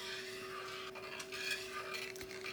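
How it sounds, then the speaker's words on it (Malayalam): A spoon stirs vermicelli payasam as it boils in a pot, giving steady scraping and rubbing against the pot with a soft bubbling wash and a constant low hum beneath, with no talking. "അത് നല്ല പോലെ ഇളക്കി തിളപ്പിച്ച് കുറുക്കിയെടുക്കണം."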